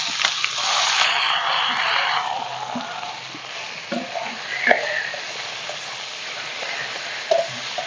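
Grated ash gourd frying in a pan for a Bengali vegetarian ghonto gives off a loud, hissing sizzle that settles into a softer, steady fry, with occasional clicks and scrapes from stirring.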